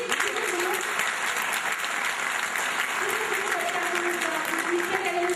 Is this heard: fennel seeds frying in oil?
no